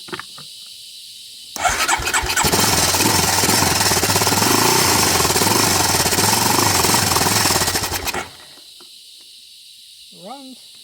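An abandoned 2008 Honda Recon ATV engine catches and runs loud and steady for about six seconds, a rough buzzing idle with hiss, then cuts off, leaving quiet with a brief voice afterward.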